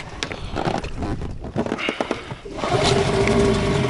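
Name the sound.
Gladiator 9.9 outboard boat motor first start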